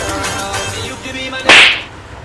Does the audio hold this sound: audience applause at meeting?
no